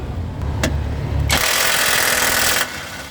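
Impact wrench removing rusted parts near the transmission and alternator of a Hyundai Eon, with a few short taps before a loud, sustained rattling burst lasting over a second, close by.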